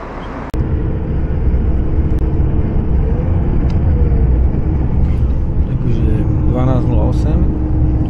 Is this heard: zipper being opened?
no